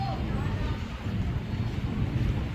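Steady wind buffets the microphone with a constant low roar, loud and close throughout the short stretch.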